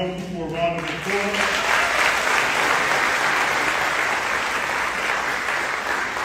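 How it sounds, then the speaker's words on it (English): Sustained audience applause fills an award ceremony hall, loud and steady after a brief spoken introduction at the start. "Let's give all of our young people a round of applause."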